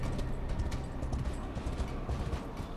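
In the video game Darksiders Genesis, a summoned horse's hooves clip-clop in a quick, steady rhythm at moderate distance for a few seconds, without talk.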